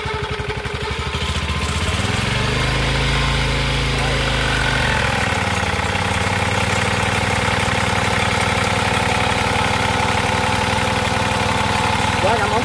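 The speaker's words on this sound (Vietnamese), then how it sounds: "bây giờ mình sẽ cho máy nổ luôn, mình test máy cho anh em xem" The engine of a Japanese domestic high-pressure washer runs loud and close, a steady rough drone with a brief rise in pitch and load early on before it settles back to a constant idle.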